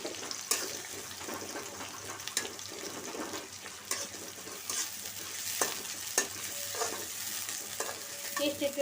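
Spice paste sizzles and crackles in hot oil in a wok for a prawn bhuna, stirred with steady scraping strokes, close and fairly quiet, without speech.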